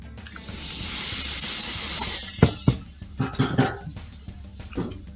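Fizzing moon rock science experiment: a loud, steady hiss of fizzing for about two seconds that cuts off, followed by a few sharp knocks and clinks close by.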